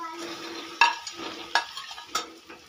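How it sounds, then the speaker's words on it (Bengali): Fried drumsticks and potatoes are stir-fried in a spice masala with a low sizzle, punctuated by three distinct metallic clinks of a spatula against the pan. "এবার আমি ভেজে রাখা সজনে ডাঁটা ও আলুগুলো দিয়ে দেবো।"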